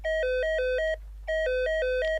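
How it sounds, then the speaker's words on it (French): Hospital ward telephone rings in two electronic bursts of rapidly alternating warbling tones separated by a short pause, loud and close over a low steady hum. "Vers 14 heures, le téléphone du service sonne."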